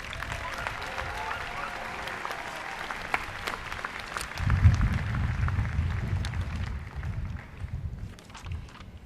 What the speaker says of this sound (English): So let's give our platform guests a round of applause.